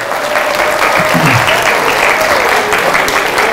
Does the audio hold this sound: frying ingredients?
no